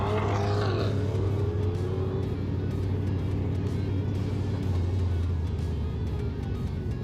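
A muscle car engine revs hard during a drift run at a drag strip, with a loud sustained roar that climbs early on and then holds a steady droning rumble throughout.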